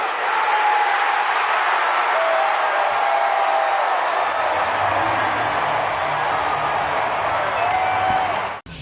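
Cubs fans at a baseball game against the Boston Red Sox rise in a standing ovation for pitcher Cade Horton, sustained loud applause with cheers and whistles swelling across the ballpark, ending abruptly near the close.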